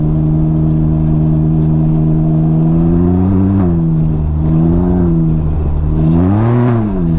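A three-wheeled Riker motorcycle with shaft drive rides along, its engine holding a loud, steady drone up close, with a few rises and falls in pitch as the throttle shifts and no talking.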